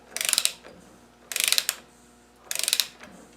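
A ratchet wrench clicks in three quick bursts of rapid ratcheting with short pauses between them as it tightens the front nut of a TDI VE diesel injection pump.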